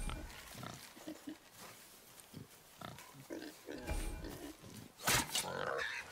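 A wild boar in God of War grunts and snorts in short, rough bursts amid game ambience and a spoken voice, growing louder toward a sharp burst near the end.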